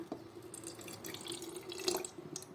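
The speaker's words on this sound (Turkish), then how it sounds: "Suyumuzu döküyoruz." Water pours steadily from a container in a home setting, a continuous close trickle with small splashes and a brighter gush near the end.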